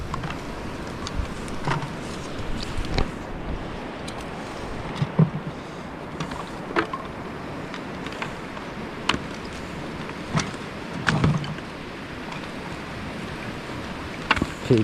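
A boat labouring through rough seas, with broadband wash of waves and wind throughout and repeated slapping thuds of the hull against the water, steady and fairly close.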